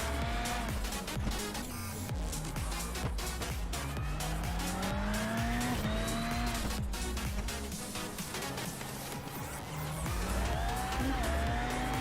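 A rallycross car in a sim racing event at Iowa drifts through a long corner, its tires squealing steadily while the engine revs rise and fall, loud and continuous with no talk.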